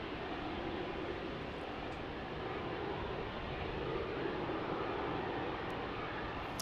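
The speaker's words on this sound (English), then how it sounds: "I see Delta 2998 on an A220-100 getting ready to arrive here on runway 34" A Delta Airbus A220-100 airliner arrives on runway 34 at Salt Lake City at night, its engines giving a steady, distant broadband rumble and hiss that holds evenly throughout with no talking.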